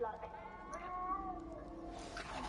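A cat mewing in the Hogwarts Legacy game world, a few drawn-out, wavering cries that rise and fall over game music and ambience, with a rushing swell toward the end.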